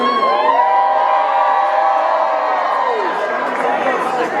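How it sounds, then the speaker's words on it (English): A university student audience cheers loudly during a Bill Clinton visit to Jackson State University, with sustained shouts, whoops and crowd roar, voices rising and falling over a dense wall of noise. "Another round of applause."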